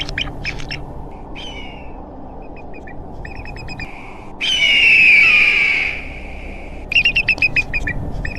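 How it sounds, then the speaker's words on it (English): An African fish eagle gives loud, ringing calls, a long yelping cry in the middle, followed by a burst of rapid, high repeated notes and scattered chirps. "the call of the fish eagle over the Nile"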